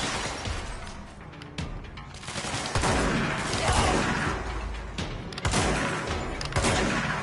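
Rapid gunfire in the video game Control, rattling bursts and sharp impact cracks layered over heavy crashing effects, loud and continuous for several seconds with no talk over it.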